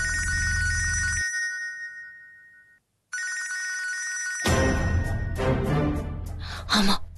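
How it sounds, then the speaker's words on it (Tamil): A telephone rings loudly in a drama scene with steady repeated trills, then cuts out; after a short silence the ringing resumes, overlaid by gasps and other busy sounds. "மாமாக்கு போன் வருது"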